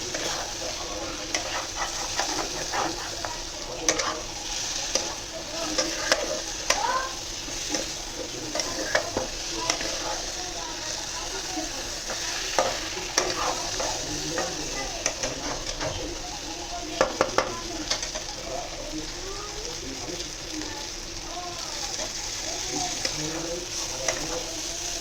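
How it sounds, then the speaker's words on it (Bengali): Chicken pieces sizzle steadily as they fry in ghee, with intermittent scraping and stirring clatters from a spatula against the pan, close and continuous throughout. "তাকে ভাজতে ভালো করে, একটু ঘি দেবো"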